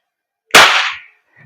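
A single sharp crack from an EMG Salient Arms BLU airsoft gas blowback pistol firing, with a quick hiss of gas and the slide cycling, loud and close, then silence.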